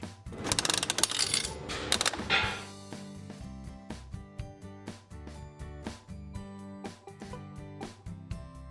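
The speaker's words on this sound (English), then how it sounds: "Bianca, take this coin." A coin-operated animal feed dispenser on a farm is turned by hand, giving a burst of clattering metallic clinks followed by a steady series of ratcheting clicks over cheerful background music.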